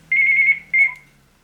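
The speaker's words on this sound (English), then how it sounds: "Now the phone's ringing." A telephone rings in a quiet home, two electronic trills, a long burst then a shorter one, fairly loud and close with a low hum underneath and no talking.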